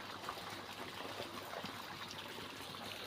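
Water flows through drip irrigation pipes laid in a coconut orchard, a steady, soft hiss and trickle with no other sounds.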